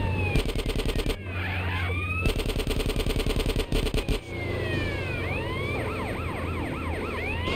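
Wailing ambulance siren in Grand Theft Auto San Andreas, sweeping up and down loudly as it chases the player, with rapid gunfire-like bursts and game engine noise in the first half.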